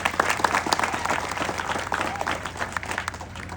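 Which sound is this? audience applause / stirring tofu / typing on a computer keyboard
audience applause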